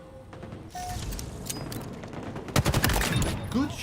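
Gunfire in a Spartan shooter video game starts out sparse, then turns into a tight rattling volley of rapid shots partway through. Low engine or ambient rumble sits underneath.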